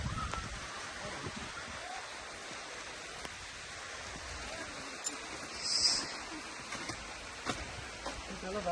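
Sudden night rain pouring off a roof edge near a house, a steady even hiss of falling water filling the background with faint drips, while people talk over it.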